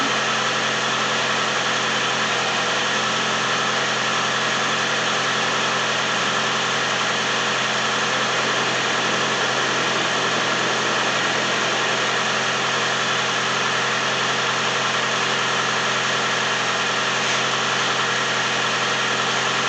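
A 2012 Toyota Prius engine runs at a steady idle after a water pump replacement, a close, even hum with a constant mechanical drone and no change in pace.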